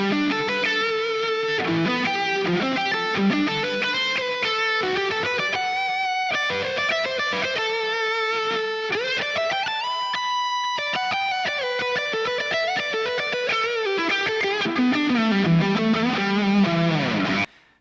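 An electric guitar with a maple bolt-on neck plays heavily distorted riffs and sustained chords with shifting pitches, loud and continuous with no talking, ending abruptly.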